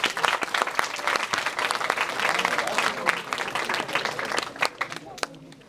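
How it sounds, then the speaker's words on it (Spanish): An audience at a lecture on technology megatrends applauds the speaker, steady dense clapping that continues throughout and tapers off near the end. "le damos un aplauso al maestro Zacarías"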